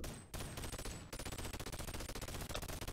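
Rapid gunfire in the VR game Boneworks: dense, continuous automatic bursts after a short opening shot, loud and sustained with brief gaps, and no talking.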